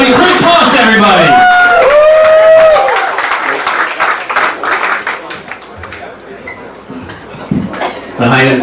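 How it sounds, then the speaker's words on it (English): A stand-up comedy crowd claps and cheers in a club while an MC's voice calls out over the start. The applause thins to scattered claps and murmurs, with some laughter toward the end. "applause, everybody."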